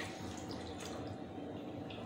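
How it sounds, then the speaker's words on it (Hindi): A soft, steady trickle of water pours into a cooking pot, faint and continuous with no voices. "और मैं इसमें 1/2 ग्लास पानी डालूंगी"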